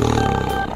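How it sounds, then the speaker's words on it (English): A tiger's roar, loud and close, a single sustained growling call lasting under a second with no other sounds. "Tiger."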